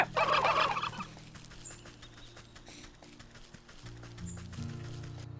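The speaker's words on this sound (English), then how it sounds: "Well, I got away from the turkeys." Turkeys gobble in the video game Wytchwood: a loud, rapid burst of gobbling in the first second, then quieter game ambience with soft thuds and tonal hums.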